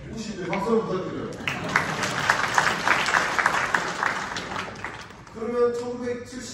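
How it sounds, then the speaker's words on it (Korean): An audience at a 2023 COEX economics conference lecture breaks into applause that swells and holds for about three seconds. Someone talks just before it starts and again as it fades. "박수 부탁드려요."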